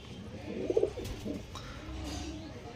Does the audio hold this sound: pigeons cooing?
yes